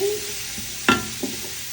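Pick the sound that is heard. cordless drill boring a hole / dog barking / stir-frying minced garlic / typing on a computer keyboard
stir-frying minced garlic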